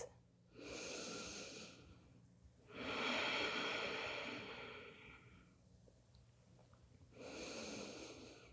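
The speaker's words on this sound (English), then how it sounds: "Take some breaths." Slow, deep breaths during a yoga child's pose: three long, airy exhalations, each a few seconds long, separated by quiet pauses, close and intimate with no speech.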